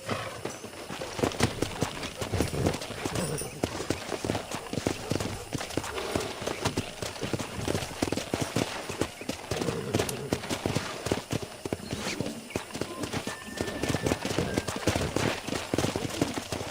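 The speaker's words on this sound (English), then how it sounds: "Let's see if we can't wrangle some horses." Horses gallop continuously in the video game Red Dead Redemption, a dense, rapid clatter of hooves that stays fairly even throughout at a moderate distance.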